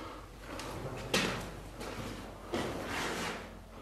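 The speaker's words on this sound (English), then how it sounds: "These big wooden doors." Big old wooden doors at a disused Royal Navy base being moved, two heavy knocking thuds with a woody scrape and creak in a quiet, echoing space.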